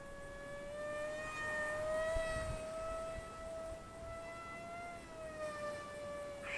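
The electric motor of an Eachine Mobula Wing FW650 RC flying wing, 650mm wingspan, whines steadily in flight below full throttle, a sustained high tonal drone that rises and dips slightly in pitch, heard alone.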